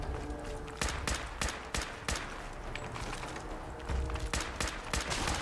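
Rapid automatic gunfire from Fallout 4, a dense unbroken stream of shots with sharp louder cracks about every half second over steady combat noise.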